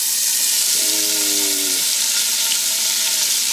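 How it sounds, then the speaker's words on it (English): Chopped vegetables hit hot bacon grease and charred bits in a chili pot, giving a loud, steady, hissing sizzle that runs throughout, with a short low rumbling thump from stirring partway through. "Listen to that sizzle."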